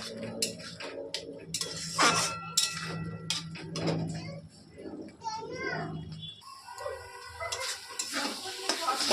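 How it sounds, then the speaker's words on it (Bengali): Tomato paste, freshly grated, stir-fried in a pan, giving steady sizzling and the scrape of a spatula, with brief clattering and children's voices faintly in the background. "এই যে টমেটো বাটাটাও দিয়ে দিলাম, যেটা ঘষে নিয়েছিলাম। বাটলেও এরকমই হতো। এটা এখন কষিয়ে নেব।"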